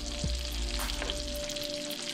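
Trout sizzles and spatters in a hot pan of butter, with crackling fat and a low scrape of the pan being tilted for basting.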